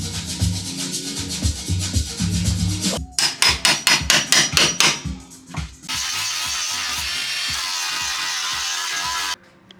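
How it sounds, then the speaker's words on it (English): A hammer bangs a chassis post mount off a Honda EG chassis during a K24 engine swap: a quick series of sharp metallic whacks close by, followed by a sustained grinding or rubbing noise, with no speech. "you can whack this off with a hammer or a pry bar, crowbar"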